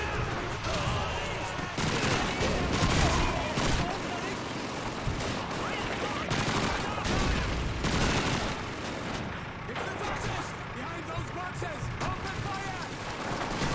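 Call of Duty 2 battle with grenade explosions and rapid gunfire, dense bursts of shots and booms crowding one another at close range for the whole stretch, with a voice talking over parts of it.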